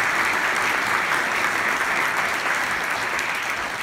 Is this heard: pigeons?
no